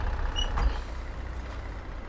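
A Peterbilt 379 truck with a Cat 3406E diesel engine in a driving simulator, lugging in too low a gear: a steady low, heavy engine drone holding even throughout, with no voices.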